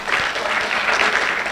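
An audience at a lecture bursts into sustained clapping, a dense, even wash of applause filling the room without any talk over it.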